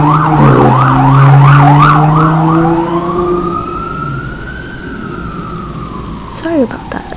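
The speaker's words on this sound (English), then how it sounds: "You're always gonna hear a lot of sirens and noise outside of the window" Emergency vehicle siren wailing outside a home window, a rapid yelp cycling at first and then shifting into a long rising and falling wail, fairly loud and close, fading toward the end with another brief siren sweep.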